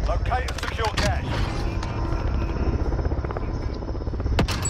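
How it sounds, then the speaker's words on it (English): A helicopter drones steadily overhead during a Call of Duty: Modern Warfare match, its rotor chop loud throughout, with bursts of gunfire and a player talking over it. "chopper incoming. Take it down and secure the cache."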